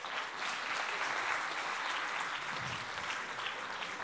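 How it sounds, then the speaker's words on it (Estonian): Concert audience applauding at a folk holiday show, a continuous dense patter of clapping from a room full of people, even and sustained throughout. "Teeme talle aplausi."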